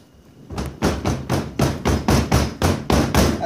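Sand being lightly packed into a metal casting mold, a series of about nine soft, evenly spaced thuds close by, steady in rhythm with no talk.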